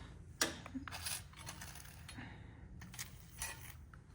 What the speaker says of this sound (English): Now you can hear how horrible these hinges are.